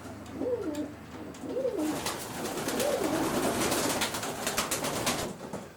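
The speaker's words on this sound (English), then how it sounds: "This is the scene inside Mick's young bird loft, and what a beautiful shed this is" Racing pigeons coo inside a young bird loft, with repeated soft rolling calls close by over a constant rustling background of birds shifting and fluttering.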